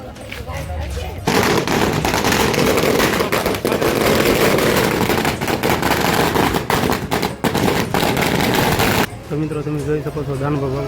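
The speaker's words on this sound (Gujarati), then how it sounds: "ફટાકડા ફોડવામાં આવે છે" A long string of firecrackers laid out in a line bursts in a dense, loud, continuous crackle for about eight seconds to welcome a guest at a village gathering, with voices before and after.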